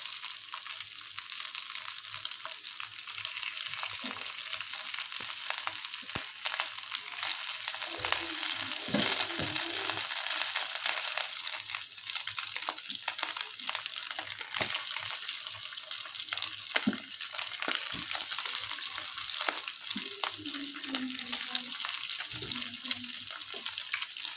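Slices of pathrode, the steamed colocasia-leaf roll, fry in hot oil with a soft, continuous sizzle. Now and then a utensil scrapes or clinks against the pan, and faint voices can be heard in the background.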